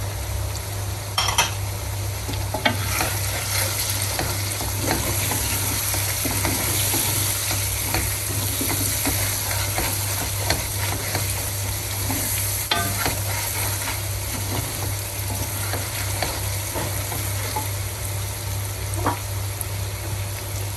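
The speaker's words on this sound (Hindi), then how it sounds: "इसको थोड़ी देर भून लिया।" Spicy chicken fries in a pan with salt, turmeric and black pepper, giving a steady close sizzle with scattered stirring scrapes and clinks of utensils against the pot, and no voices.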